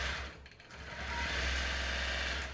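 A Gammill longarm quilting machine stitches a dense edge-to-edge pattern, giving a steady mechanical hum with a fast, even stitching rhythm that carries on throughout, with a slight dip near the start.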